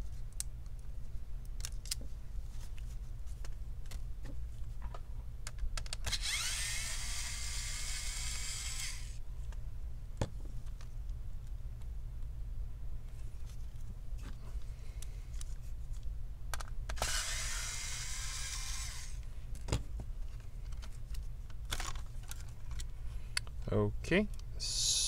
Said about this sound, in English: Remove the screws.